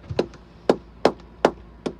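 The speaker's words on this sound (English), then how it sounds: "Sound those with the hammer and then spike them." A hammer strikes the large frames of an old wooden boat five times in a steady, evenly spaced rhythm, each blow a sharp, close, hollow knock with nothing else heard between the strikes.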